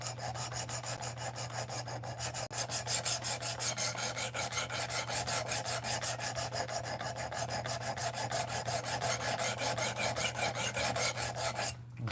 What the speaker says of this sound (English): I made this knife all on live stream. It's the first time it's ever been sharpened